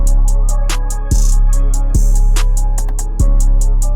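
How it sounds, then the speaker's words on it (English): A beat pushed through FL Studio's Maximus limiter on a master preset, loud and dense with soft clipping, with a steady hi-hat pulse and deep booming bass hits every second or so, no voices. "you can hear the plugins actively soft clipping it"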